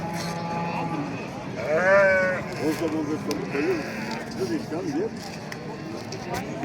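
Sheep at a livestock bazaar in Batken bleat several times, one loud, wavering call followed by shorter quavering bleats, over a busy crowd murmur with people talking nearby.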